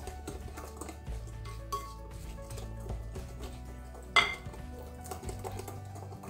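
A spoon stirs a batter of sifted flour and milk in a pot, giving soft scraping with intermittent metallic clinks and one sharper knock, close and fairly quiet with no talk.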